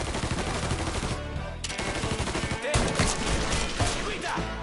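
Dense automatic and single gunfire from a Mafia 3 firefight, loud and continuous throughout with brief lulls, with a faint shouted voice mixed in.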